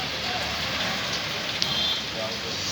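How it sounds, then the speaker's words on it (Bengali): Heavy rain pouring down on a street in Kolkata, a steady dense hiss of rainfall with no break. "মুষলধারে বৃষ্টি হচ্ছে"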